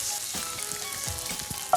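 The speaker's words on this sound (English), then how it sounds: "frying off the mince for colour is so important." Minced meat sizzles and crackles steadily in a hot pan, with a few soft scraping stirs and a sharp clink at the end.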